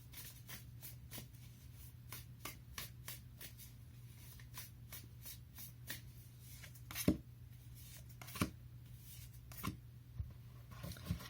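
A tarot deck is shuffled over and over in a quiet room, the cards riffling in quick, close bursts with a few sharper slaps as they are squared, and a low steady hum running underneath.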